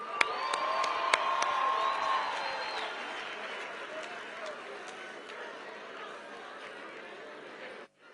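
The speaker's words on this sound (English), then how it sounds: "Can we give them a big round of applause?" A crowd at an outdoor South African Freedom Day celebration cheers and claps, with whoops and shouts rising early before the noise gradually fades; a loud sharp tone sounds near the start.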